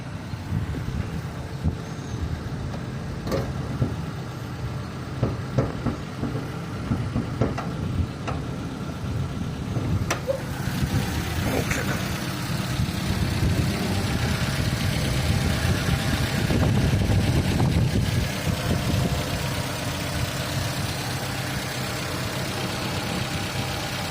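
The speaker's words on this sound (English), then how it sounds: "I'm going to turn the engine off" A car engine idling nearby, a steady low rumble with occasional clicks and knocks, continuous throughout and no talking.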